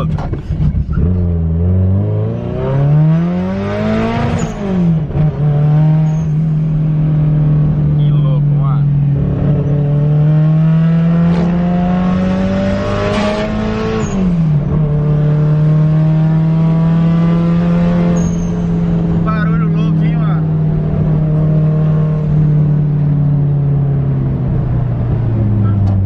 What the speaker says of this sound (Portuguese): olha o barulho que faz esse carro